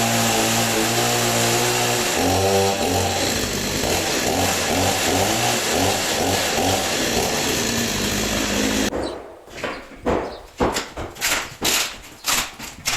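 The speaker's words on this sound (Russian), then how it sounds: "Поэтому бензопилой я прорежу пополам и, надеюсь, она выберется у меня легко." A gasoline chainsaw cuts through a wooden door frame built into the wall of an old abandoned village house. The engine roars loud and close for about nine seconds, then the saw stops and clattering knocks follow.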